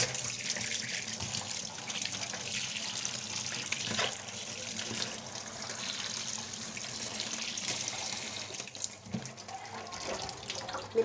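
Raw chicken rubbed with salt being rinsed under a running kitchen tap, water splashing steadily into a sink for the whole stretch with no talking.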